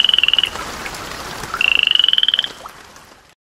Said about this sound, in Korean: 청개구리는 냇가에서 개굴개굴하고 운답니다.